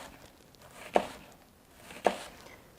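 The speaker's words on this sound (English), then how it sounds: "So thinly slice your onions." A knife thinly slicing a red onion for bruschetta on a cutting board: two distinct, evenly spaced chopping taps, close and moderately quiet, with soft room noise between them.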